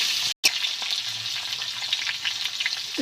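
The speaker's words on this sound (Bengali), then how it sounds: "চেরা কাঁচা লঙ্কা ও আলু দিয়ে দেবো দিয়ে ভালো করে নেড়ে চেড়ে ভেজে নিতে হবে" Potatoes and slit green chillies fry in a hot pan with a steady, close sizzle that runs almost throughout, broken by one brief dropout near the start, with occasional stirring crackles.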